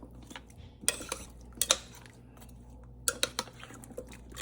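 A spoon stirs ingredients in a slow cooker, giving a few scattered clinks and scrapes against the pot, moderately close, with quiet pauses between them and no talk.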